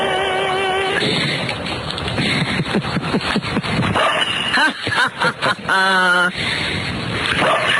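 A dog barks in short, loud bursts over a busy background with a high whining tone, the barks clustered near the middle.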